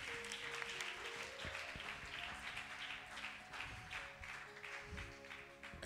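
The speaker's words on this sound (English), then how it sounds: "Clap for them." A church congregation claps steadily and briskly in response to a sermon, the dense applause filling the room with a faint sustained tone underneath.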